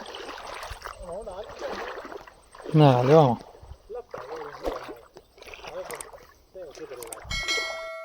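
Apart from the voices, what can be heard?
splashing water while wading across a flooded road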